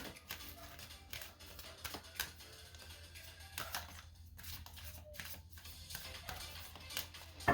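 Soft riffling and clicking of cards being shuffled up close, in several quick bursts with brief pauses between them.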